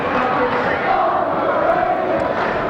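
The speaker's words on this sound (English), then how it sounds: "The Moline Maroon fans saying overrated" Basketball crowd of Moline Maroon fans chanting at a game, a dense, steady roar of many voices filling the gym with no break.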